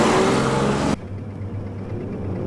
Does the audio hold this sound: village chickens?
no